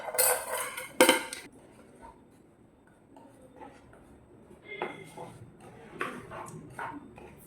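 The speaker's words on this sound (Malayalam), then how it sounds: "മെലിറ്റാകുന്നത് വരെ നമ്മളിതൊന്ന് ഇളക്കി കൊടുക്കണം" A spoon works through melting jaggery and dry ginger in a pan, starting with a couple of loud metallic clanks, then settling into sparse scraping and light knocks against the metal.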